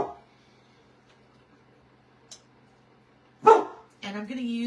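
A dog at home gives a couple of short barks at a school bus, one sharp yelp followed by a longer muffled burst, set against a quiet room with a faint steady hum.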